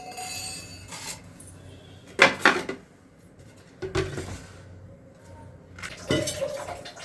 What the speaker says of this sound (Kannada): ಇವಾಗ ಹಾಗಲಕಾಯಿ ಕಟ್ ಮಾಡ್ಕೊತಾ ಇದ್ದೀನಿ.